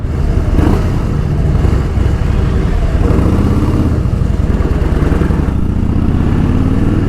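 A Harley-Davidson Fat Boy motorcycle with a 1750cc air-cooled engine accelerates on a group road ride, its deep, loud exhaust rumble close and continuous, the engine note climbing as it pulls.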